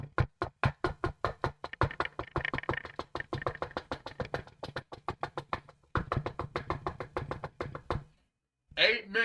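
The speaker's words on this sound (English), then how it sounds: "For 8 minutes, I hear knocking in the background." Hard, rapid knocking on a door plays loudly and almost without pause, a steady run of sharp raps with voices murmuring underneath, breaking off briefly before a short burst of speech near the end.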